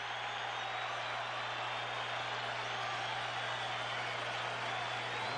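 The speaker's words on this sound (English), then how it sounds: "Yogi getting a standing ovation from this crowd" Stadium crowd at the 1976 World Series Game 4 between Cincinnati and New York giving a standing ovation, a steady, broad wash of applause and crowd roar, distant and continuous with a low hum beneath.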